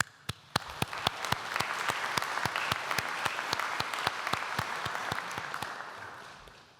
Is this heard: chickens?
no